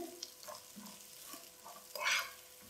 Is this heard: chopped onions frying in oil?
yes